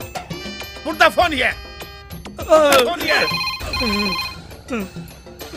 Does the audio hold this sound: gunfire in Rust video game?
no